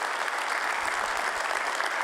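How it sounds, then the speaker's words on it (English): A crowd claps steadily in continuous, dense applause, an even wash of hands with no voices standing out. "please give them a huge round of applause for their support"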